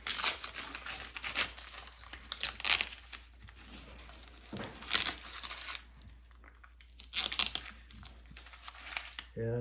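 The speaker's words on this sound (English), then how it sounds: "So all we got to do now is take this paper off." Paper is peeled off a foam form for a wet slab bonsai pot, giving bursts of close crinkling and tearing that start and stop in several separate pulls.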